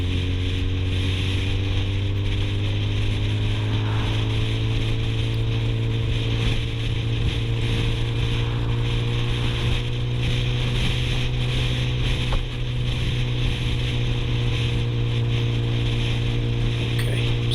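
A Suzuki Bandit GSF650SA K6 motorcycle engine drones steadily while riding at around 40 mph, a loud, continuous low hum with wind rush layered over it throughout.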